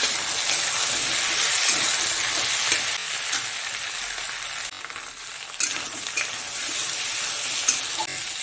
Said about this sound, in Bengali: হাফ চামচ রসুন বাটা আর হাফ চামচ আদা বাটা দিয়ে দেবো। দিয়ে একটুখানি ভেজে নেবো ভালো করে।